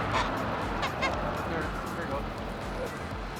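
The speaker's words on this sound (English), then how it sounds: "They're geese. all going back." A flock of geese honking on a road beside a stuck city bus, repeated nasal honks over a low traffic rumble, moderately near, with people talking.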